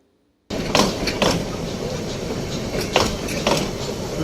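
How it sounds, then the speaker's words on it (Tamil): A mountain railway train rumbles steadily close by, with a continuous rolling roar and a few rhythmic clacks from the wheels on the track. "இன்று முதல் வழக்கம் போல் மலை ரயில் இயக்கம் மீண்டும் துவங்கியது"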